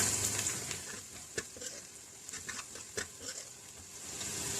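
Whole spices (small cinnamon sticks, eight to ten black peppercorns and half a teaspoon of cumin) with garam masala roast and crackle faintly in a pan for minced-meat karahi, with scattered soft pops and a few stirring scrapes.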